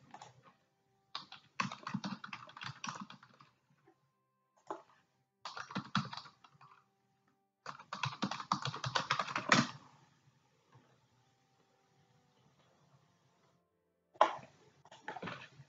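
Typing on a computer keyboard in bursts of rapid, close key clicks separated by quiet pauses, with a final short flurry near the end; no talking.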